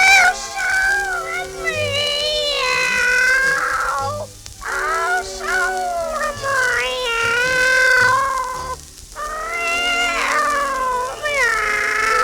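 A cartoon cat from an old 78 rpm record sings O Sole Mio entirely in drawn-out, wavering meows and caterwauls, a voice imitating a cat, loud and close in sustained melodic phrases with short breaths between.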